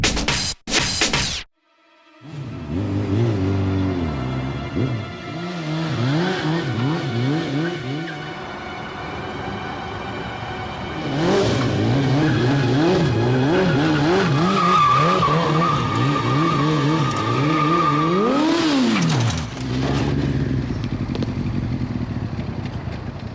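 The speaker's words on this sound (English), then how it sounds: "Time to crash the bike." A motorcycle stunt crash: brief sharp impacts, then an engine revving and wavering in pitch while the bike slides and scrapes along, loud and close throughout with no talking.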